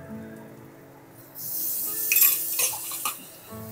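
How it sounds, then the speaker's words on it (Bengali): Ginger garlic paste hits onions in a hot pan for an egg masala curry: quiet at first, then a sudden bright sizzle that swells, with a few sharp utensil clinks and scrapes nearby. "আদা রসুন বাটাটাও এর সঙ্গে পেঁয়াজের সাথে বেশ ভালো করে ভেজে নিতে হবে"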